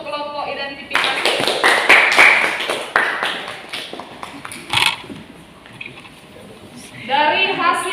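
Classroom applause for a student group during a junior-high Indonesian-language lesson: a burst of many hands clapping rises after a short spoken line, runs several seconds, fades, then a teacher's voice returns.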